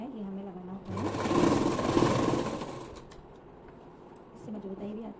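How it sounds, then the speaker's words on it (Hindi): Sewing machine stitching a belt onto a salwar, a close rapid mechanical whir running for about two seconds between quieter stretches, with someone talking before and after. "इसकी जो है सिलाई हम करते चलेंगे इस तरीके से"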